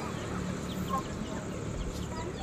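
Chickens from a flock of heritage-breed backyard fowl cluck softly in the background, a faint steady farmyard murmur with a few brief calls.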